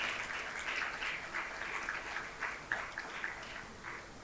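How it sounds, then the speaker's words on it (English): An audience at the inauguration of a national seminar on climate literacy gives applause, quiet and distant, with soft uneven bursts of clapping over a room hush and no voices. "Shall we give them a huge round of applause?"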